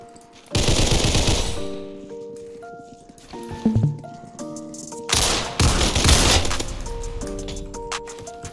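Gunfire in the video game Criminality comes in several sharp bursts of rapid shots, near and loud, separated by short pauses with tonal game sounds between them.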